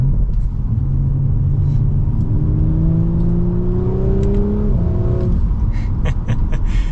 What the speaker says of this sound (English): There's a little bit of gurgles when you do the exhaust downshifts and stuff like that.